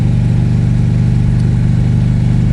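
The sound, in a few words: motorcycle with loud pipes revving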